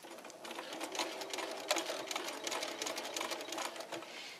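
Sewing machine stitching strips of necktie fabric, a steady continuous whirring run of rapid stitches at close range, alone with no talk.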